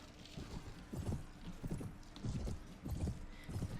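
Horse hooves drum in a rapid galloping rhythm in the Mount & Blade video game, several clustered bursts of clip-clop with an occasional whinny, fairly close and loud, with no talk over them.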